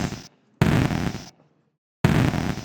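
Crash sound effect for a game played back, three loud, broad bursts of crunchy noise separated by sharp silent gaps, harsh and dense, with no talking over them.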